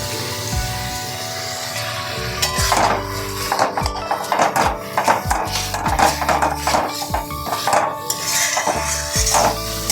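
Brinjal curry sautéed in a pan, with busy clattering of a metal spoon against the pot and scraping strokes over a low sizzle, close and fairly loud throughout.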